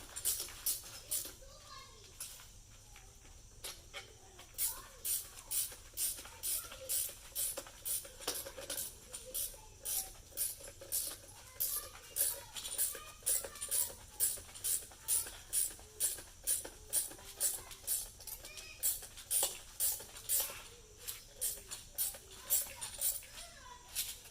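A wrench tightens the nut on a front magnetic shock absorber of a 2015–2018 GM vehicle, giving a rapid, steady run of ratcheting clicks close by.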